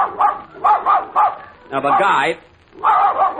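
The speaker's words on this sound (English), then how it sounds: "must your dog bark when I'm talking?" A dog barks repeatedly on an old-time radio comedy show, in short loud bursts separated by brief pauses, with voices mixed in.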